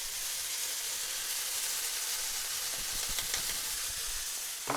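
Steady, close sizzling hiss of paprika frying in a hot pan for Bulgarian kapama, continuous with faint crackles and a brief stir near the end.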